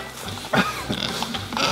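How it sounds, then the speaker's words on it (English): Pigs on a farm grunt and oink close by, with short grunts scattered among rustling and general pen noise. "Can you touch pigs? Do they bite?"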